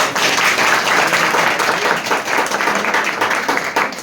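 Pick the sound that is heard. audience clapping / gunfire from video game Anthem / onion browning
audience clapping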